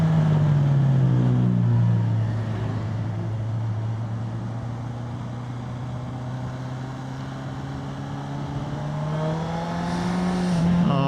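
A Honda CBR650R motorcycle with 100,000 km on it drones steadily while riding, its engine note easing down, then climbing again under a rush of wind.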